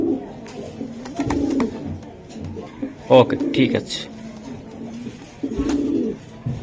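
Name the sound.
giribaj pigeons cooing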